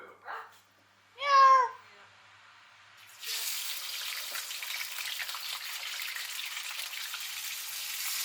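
One distinct cat meow rings out clearly in a quiet moment after a brief earlier sound, then a steady hiss of frying or running water takes over and continues to the end.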